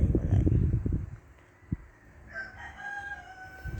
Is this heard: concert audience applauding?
no